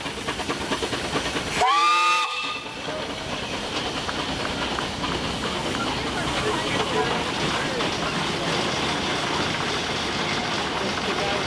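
A loud steam whistle on a 1925 Minneapolis traction engine at a steam show blasts once briefly near the start, then hissing steam and rumbling engine noise continue steadily underneath.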